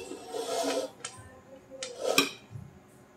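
Spoon scraping and clinking against a metal pot as rice is scooped out of a Hyderabadi chicken dum biryani, several close scrapes and two sharp taps, quiet and unhurried.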